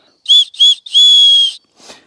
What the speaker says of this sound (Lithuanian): Taip pat yra ir švilpukas.